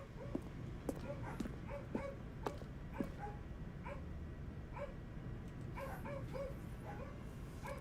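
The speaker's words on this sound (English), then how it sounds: "I hear dogs." Dogs bark repeatedly in short, sharp yips and barks throughout, faint and somewhat distant, with an irregular rhythm over a low background hum.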